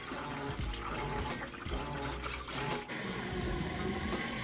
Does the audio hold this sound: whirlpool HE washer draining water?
yes